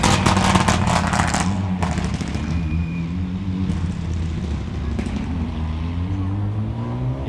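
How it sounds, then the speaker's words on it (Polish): Loud engine roar with crackling bursts at first, then a deep revving drone that shifts pitch as a rally car drives past up close during the Rajd Świdnicki Krause prologue stage. "To również bardzo głośny samochód."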